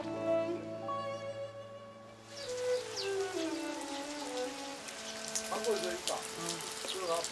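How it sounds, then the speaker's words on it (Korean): Autumn rain falling steadily in the Korean countryside, a soft continuous patter of drops on surfaces, with a fading musical tone in the first seconds. "가을에 내리는 비를 떡비라고 한다죠."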